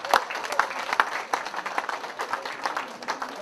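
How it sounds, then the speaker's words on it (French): Audience at a glamour gala dinner in Paris applauding, steady mid-distance clapping from many hands with a few sharper claps standing out, sustained throughout. "Je vous prie de les acclamer."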